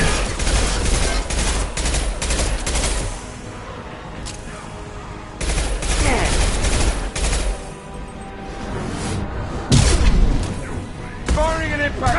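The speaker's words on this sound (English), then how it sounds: "Firing an impact shot!" Gunfire from an impact shot in the sci-fi shooter Mass Effect 2, with loud repeated bursts and booming shots in uneven clusters, separated by quieter gaps.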